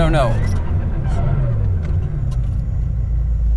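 A car engine rumbles as the vehicle speeds up, a low steady drone heard from inside with faint road noise and a brief voice at the start.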